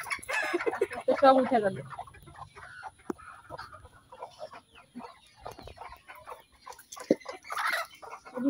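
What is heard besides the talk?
chickens and roosters clucking at dusk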